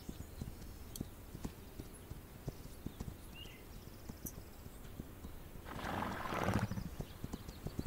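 Horse hooves clip-clopping in a video game, with scattered sharp hoof knocks throughout, a brief neigh, and a louder burst of movement or snorting near the end, all fairly faint.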